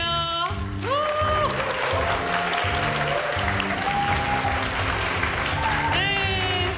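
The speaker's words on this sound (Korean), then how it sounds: "박수로 맞이해주세요" A studio audience claps and cheers to welcome couples onto the stage at a television show's production presentation, the applause running steadily under upbeat music with swooping electronic effects.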